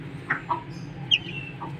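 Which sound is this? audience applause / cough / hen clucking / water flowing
hen clucking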